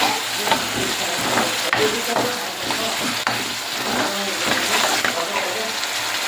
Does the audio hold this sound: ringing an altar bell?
no